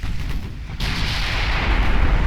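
Heavy 7-inch naval guns firing in the Ultimate Admiral Dreadnoughts warship game, a dense sustained roar of booming rumble that swells into a loud, continuous wash of distant gunfire.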